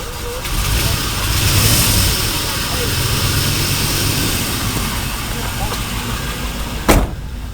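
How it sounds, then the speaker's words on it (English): A 1985 Chevy engine idles with a misfire, giving a steady, close rumble that runs the whole time, with one sharp knock near the end. "start the engine. Okay, there it goes. Finally started. Idle it up a little bit."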